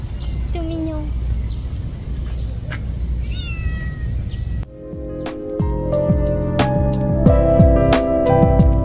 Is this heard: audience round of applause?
no